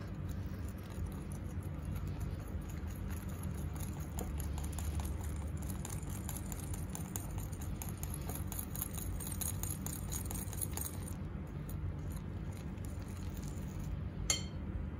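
Crepe batter made from pancake mix being whisked in a bowl, a steady rapid clinking and tapping of the whisk against the bowl that runs throughout over low background noise, with no voices.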